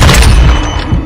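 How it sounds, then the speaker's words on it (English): A stun grenade detonating in a multiplayer shooter video game, a loud, dense burst of thudding boom that fills the short moment with no talk over it. "Throwing a stun grenade!"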